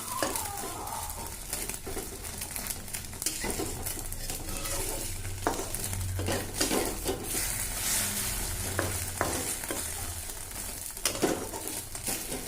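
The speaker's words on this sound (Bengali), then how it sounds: "দেখো এভাবে ডিম ভেজে নিচ্ছি" Eggs fry in a pan under a soft, continuous sizzle, broken up by frequent close scrapes and clinks of a spatula stirring against the pan.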